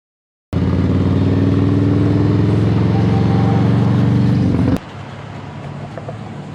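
Motorcycles in Daytona Beach in August, a loud, steady engine roar that begins abruptly and holds evenly before suddenly dropping to a lower, quieter rumble as the bikes move off.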